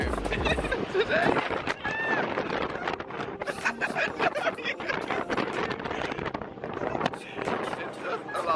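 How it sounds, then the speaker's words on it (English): Steady wind buffets the microphone throughout with a continuous low rumble, while a person talks over it. "Very windy here today."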